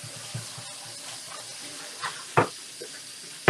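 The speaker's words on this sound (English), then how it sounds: "wash out this bowl" Tap water runs into a bowl being washed out, a soft continuous hiss broken by a few sharp knocks and splashes, one near the end.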